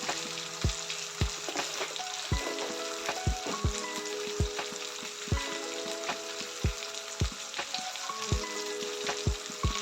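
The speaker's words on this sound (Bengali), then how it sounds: "এখন একটু টাইম মশলাটাকে কষিয়ে নেব" Spice paste with salt, turmeric and a little sugar sautés in a pan for a village-style jackfruit paneer curry, a steady sizzle punctuated by regular sharp knocks of a spatula stirring, close and even, no voices.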